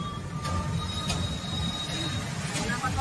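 The Jallianwala Bagh Express runs over a double-decker bridge across the Yamuna, a steady rolling rumble with faint wheel squeal and a few sharp metallic clanks, heard from on board.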